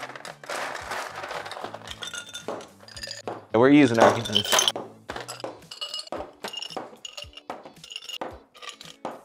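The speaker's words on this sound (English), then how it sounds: "So let's just load up every single glass with ice." Ice loaded by hand into several cocktail glasses for Long Island iced tea drinks, with repeated clinks and clatters of cubes against glass in an irregular run, loudest in a brief burst midway, while a person talks throughout.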